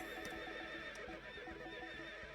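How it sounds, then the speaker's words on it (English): A horse neighs in the video game Berwick Saga, a bright whinny over steady soft hoof clip-clops, fairly loud and close with no talk. "this is the most generic horse sound I've heard ever"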